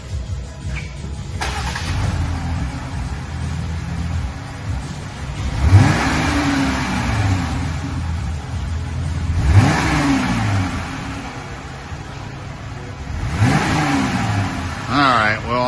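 A 2020 Jeep Gladiator engine on its stock exhaust revs up three times in a row, each rise roaring loudly then falling back to a rumbling idle, heard close with some background talk.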